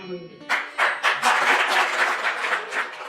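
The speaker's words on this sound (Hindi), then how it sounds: "ताली समय पे बजाएंगे" An audience at a speech breaks into applause, a burst of close, dense clapping that swells after a few scattered claps and keeps going in uneven waves.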